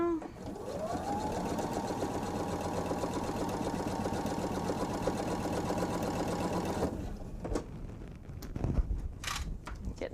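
A sewing machine runs steadily as it stitches a seam on a bench pillow, a close, continuous whirring hum for about seven seconds before it stops, leaving faint handling clicks and rustles.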